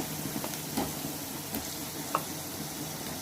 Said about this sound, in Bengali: এবার আলুগুলোকে একটু খুব ভালো করে কষিয়ে নিয়ে সামান্য জল দিয়ে ঢেকে দেবো